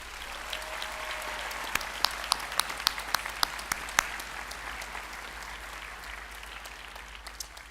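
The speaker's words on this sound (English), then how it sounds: "Let's give them a round of applause." An audience applauds steadily at a college commencement ceremony, with sharp individual claps popping out of the dense clapping that keeps going throughout, at a moderate distance.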